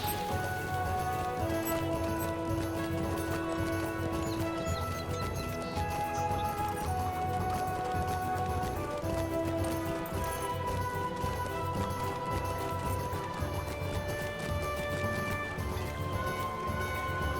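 Horse hooves clip-clopping in the LOTRO video game, a steady rhythmic patter under sustained melodic game music, with no voices.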